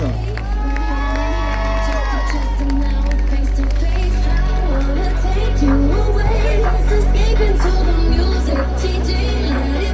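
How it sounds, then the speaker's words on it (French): A cosplay parade crowd at a gaming expo in Orléans claps and cheers loudly and continuously for a cosplayer on stage, with an announcer talking and music playing beneath. "On l'applaudit"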